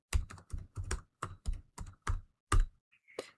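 A Redis CLI command being typed on a computer keyboard under Windows 11: about ten crisp, close keystrokes at an even, brisk pace, then a short pause and one final key press, with no talking.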